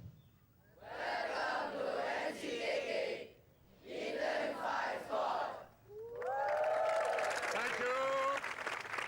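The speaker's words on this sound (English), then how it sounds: "Quite an intimidating home crowd." A home crowd at an Eton Fives game erupts in loud cheering and applause in two surges separated by a brief lull, then a voice speaks over continued crowd noise with a sharp whistle-like call.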